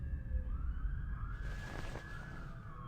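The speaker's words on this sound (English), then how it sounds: "Sirens again." A siren in the video game Reverse: 1999 wails in a long rising and falling tone above low rumble, with a brief burst of noise partway through.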